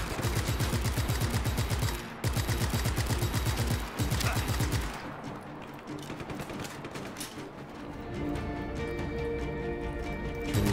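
Rapid machine gun fire in the video game Just Cause 3 rattles in long sustained bursts with brief pauses, followed by quieter game noise and tones.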